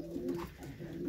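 Pigeons coo softly in a loft at night, low repeated cooing close by against a faint background hum, with no talk.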